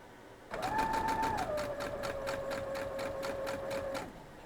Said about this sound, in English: We're just going to sew down all the ones we have prepped.